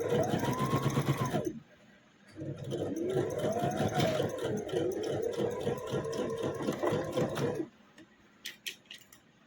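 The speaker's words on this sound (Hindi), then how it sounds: "जो हमने कटिंग किया उससे भी सीधा ही स्टिच करते जाना है।" A sewing machine stitches kurta fabric in two runs separated by a brief pause, with a close, steady mechanical whir and rattle, then small handling knocks afterward.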